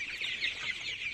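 Farm chickens clucking steadily in a close, continuous chatter while they scramble for feed in winter, a dense overlapping flock sound with no talk.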